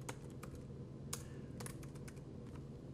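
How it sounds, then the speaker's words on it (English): Rapid, uneven clicking of fingers typing on a computer keyboard, close and fairly quiet, with no talk, the keystrokes coming in quick irregular bursts. "type the file name"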